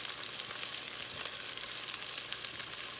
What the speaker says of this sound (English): we're going to cook on both sides until they got a nice brown color